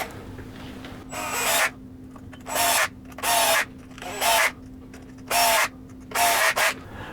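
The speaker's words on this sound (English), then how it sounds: "start drilling away." A hand drill drives hub adapters into the wheels of an ARRMA Big Rock RC car, in about seven loud, close whirring bursts of roughly half a second each, separated by short quiet gaps.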